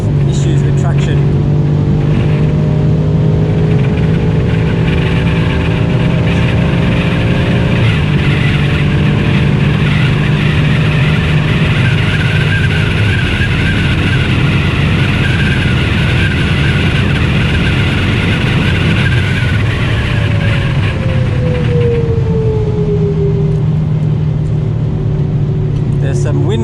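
Stage 3 tuned BMW F90 M5 making about 900 wheel horsepower, heard from inside at a VMAX 200 top-speed event: a loud, sustained engine drone with shifting pitch and road and wind noise, while a person talks over it.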